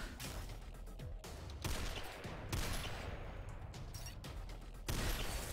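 An automated turret in the SYNTHETIK video game fires rapid bursts of gunfire, several overlapping volleys at a moderate level with brief gaps between them.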